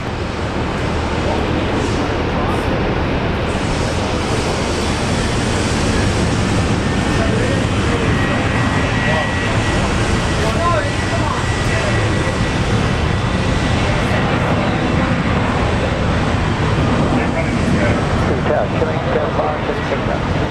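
A jet taking off from runway 19 right at Brisbane Airport, a broad continuous engine roar and rush that holds steady and loud for the whole stretch, mixed with wind-like noise.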